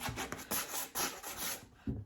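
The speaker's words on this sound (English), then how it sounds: "I want to sand back to the original wood." Painted wood is sanded back to bare wood by hand, with close, loud back-and-forth rasping strokes in a steady, slightly uneven rhythm.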